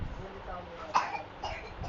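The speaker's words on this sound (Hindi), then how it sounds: "बहुत ज़्यादा खांसी हो रही है इसको" A child gives a couple of short, muffled coughs with some throat clearing at home, close by but quiet, amid low background noise.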